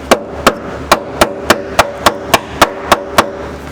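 Steady, evenly spaced metal hammer strikes on a rotted, rusty van body, about ten sharp close knocks with a ringing tone, heard alone as corroded pieces chip off.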